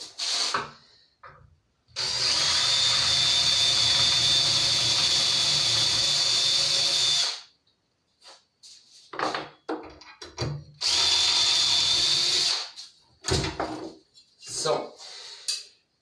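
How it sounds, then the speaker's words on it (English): A power drill enlarges a hole for a rivet-like nail, a sustained close whine for several seconds, then a second shorter burst, with clinks, handling knocks and quiet spoken remarks in between. "I'm enlarging the hole a little bit to make it fit for the rivet"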